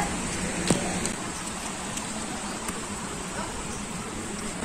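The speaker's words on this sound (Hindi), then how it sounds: "बारिश बहुत हल्की हल्की हो रही है" Light rain falling outdoors on a cool day, a steady dense patter with a few sharper drip ticks, continuous and moderately loud, with no talking.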